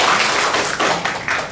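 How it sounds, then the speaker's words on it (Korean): Elementary school students clap together at the start of a debate session in a reading-debate competition, a dense, steady spatter of applause filling the moment at close range with no talking. "박수!"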